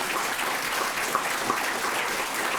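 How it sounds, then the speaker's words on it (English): Audience applause in a college lecture hall, a steady wash of many hands clapping together, dense and even throughout at moderate loudness with no voices over it. "So please, a round of applause."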